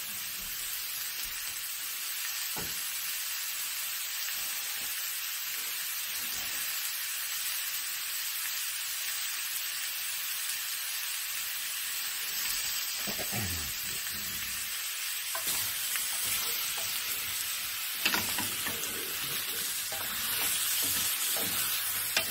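Pork ribs frying in a very hot pan, a dense continuous sizzle and hiss up close, with occasional stirring and scraping noises throughout.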